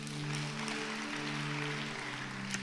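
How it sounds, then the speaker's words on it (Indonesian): A church congregation claps hard during a sermon, a steady wash of applause held over a sustained musical tone, moderately quiet. "Tepuk tangan yang keras."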